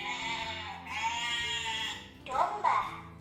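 A sheep on a farm gives a long, wavering bleat, followed by a couple of shorter, rougher bleats close by.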